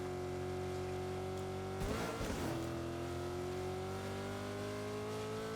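Car engine from the Fortnite video game, a steady sustained drone that swells briefly with a rougher burst partway through, then settles back to an even hum, fairly quiet with no talk.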